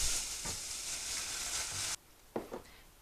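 Softened onions for tomato soup sizzle steadily in a hot pan, and the frying hiss drops off abruptly, followed by a couple of soft stirring scrapes.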